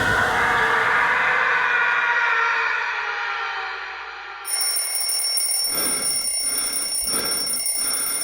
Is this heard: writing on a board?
no